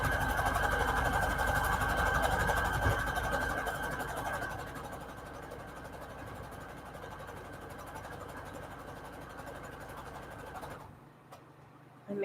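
A sewing machine stitches book paper scrap trim with a steady, fast mechanical whirr that runs without a break, easing slightly midway and stopping near the end.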